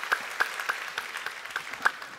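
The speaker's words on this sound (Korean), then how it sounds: "우리 주님 앞에 영광과 감사의 박수 올려드리겠습니다." A church congregation clapping in rough unison, a steady run of sharp claps at a moderate level in a reverberant hall.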